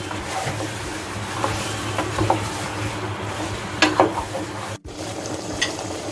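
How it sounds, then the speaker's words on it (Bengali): Beef pieces fry in hot oil with no spices added, a steady close sizzle broken by scraping stirs and occasional clinks of a utensil against the pan, with no one talking. "এখন শুধু মাংসটা এই তেলের উপরে একটু ভেজে নিব ফ্রাই করে নিব"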